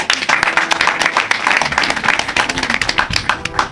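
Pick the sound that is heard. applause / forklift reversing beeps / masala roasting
applause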